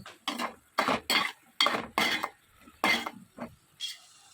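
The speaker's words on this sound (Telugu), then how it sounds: "ములక్కాయలు కూడా మొత్తం కలుపుకొని బాగా మగ్గనివ్వాలి" Drumstick pieces are stirred in a metal cooking pan, producing a quick run of close clattering, scraping strokes in an uneven rhythm, with no voices.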